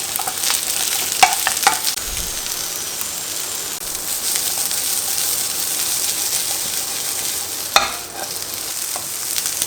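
Capsicum of three kinds and onion stir-frying in a pan, a steady broadband sizzle with a few sharp clinks and scrapes of stirring, close and fairly loud throughout.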